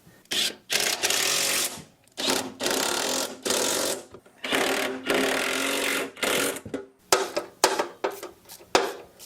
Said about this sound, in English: let me tighten up the bottom bolts to hold the motor in place